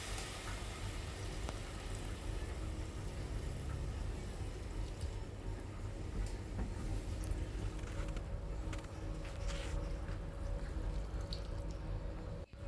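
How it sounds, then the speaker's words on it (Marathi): Water pours steadily into a pot of rice, a continuous splashing rush that holds for several seconds before stopping abruptly. "आता यामध्ये आपण पाणी ओतायचं आहे भातामध्ये"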